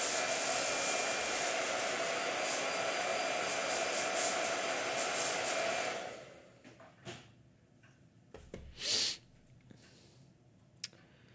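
A blow dryer runs close and steady with an even airy roar for about six seconds, then cuts off, leaving quiet room sounds and a few brief knocks and rustles.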